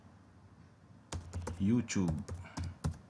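Keys clatter on a computer keyboard in a quick burst of typing close by, starting after a second of quiet, with a voice speaking over the keystrokes.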